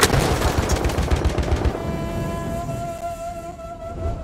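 Loud rapid gunfire in Battlefield 1 on the Sinai Desert map, a fast burst of shots that stops after about two seconds and leaves a ringing tonal decay.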